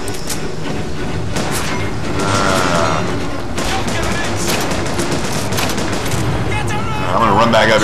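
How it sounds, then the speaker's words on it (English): Enemy gunfire in BioShock Infinite, dense rapid bursts and shots crackling continuously with occasional heavier impacts and mechanical clatter, loud and busy, with a voice talking faintly underneath. "all of a sudden there's people shooting at me"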